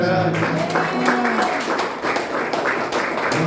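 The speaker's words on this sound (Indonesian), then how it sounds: "Tepuk tangan" Congregation applause in a church gathering at Mount Zion, a dense continuous wash of clapping filling the room, with voices and some tonal sound mixed underneath.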